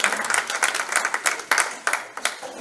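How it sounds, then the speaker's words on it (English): Audience applause fills a hall at a parish family session as people honour a Monsignor, a steady round of many hands clapping for a few seconds with no talk over it. "Round of applause for Monsignor, please, for his work."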